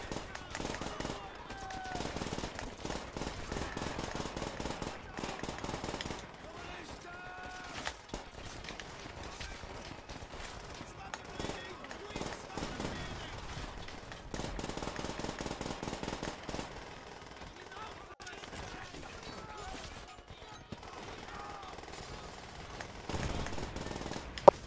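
Gunfire in the Call of Duty World at War game, with rapid bursts of shots and a grenade scattered across a busy, fairly quiet battle mix that runs almost throughout.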